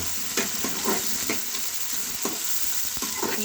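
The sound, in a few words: chopped onions frying in a pan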